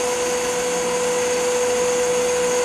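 Wood lathe spinning steadily while a wine goblet is parted off, giving a loud continuous whine with a sustained tonal hum and no breaks or speech.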